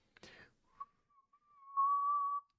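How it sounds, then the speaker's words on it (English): A person whistles a single sustained tone with slow, steady breath, starting with brief wavering notes and settling into a longer, steadier, louder held whistle, close and alone after a short breathy sound at the start. "So we want to try and whistle."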